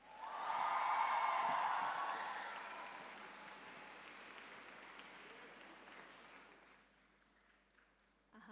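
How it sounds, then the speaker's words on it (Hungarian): Audience applause at a Korean culture concert in Hungary for a dance team: a sustained wash of clapping with a brief whistle or whoop near the start, gradually thinning and fading out toward the end. "nagy tapsot kérek a Mugunghwa tánc csapatnak"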